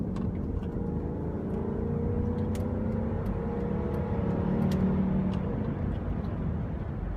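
A 2009 Jeep Commander accelerating, its engine a steady, moderately loud hum with rising tonal lines, heard from inside the cabin with faint clicks and no talking.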